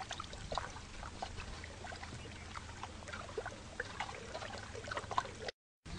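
Water poured into a container and stirred to mix a solution for soaking chilli seedling roots before transplanting, a steady close trickle and splash that runs almost without pause.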